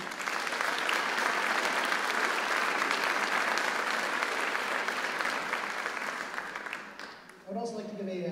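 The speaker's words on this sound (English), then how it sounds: "So let's give them a round of applause, please." Sustained audience applause fills a high school winter choir concert hall, a dense even clapping that holds steady for several seconds before tapering off as a voice begins speaking at the end.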